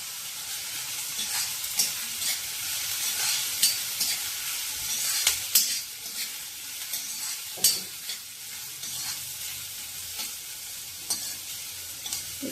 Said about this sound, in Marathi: परतून घेऊया. हळद घालते.